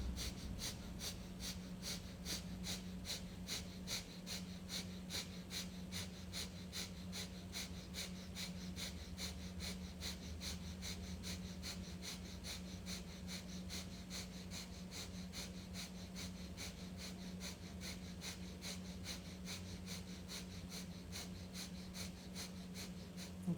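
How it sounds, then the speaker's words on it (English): Rhythmic pumping breath during a yoga class, a steady train of sharp, evenly spaced exhales repeating about twice per second for the whole stretch over a constant low hum. "I want you to keep pumping the breath."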